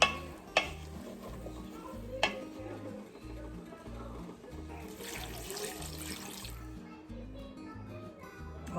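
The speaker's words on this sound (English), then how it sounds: "we're gonna stir this until it's all coated" A spoon stirs cornstarch into a pot of ham and potato chowder with soft scraping and sloshing, joined by a few sharp clinks against the pot and a brief rush of water.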